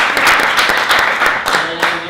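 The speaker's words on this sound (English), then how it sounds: "let's give her a round of applause" An audience at a blogger and social media conference applauds, a dense, lively burst of many hands clapping close by that fills the whole moment.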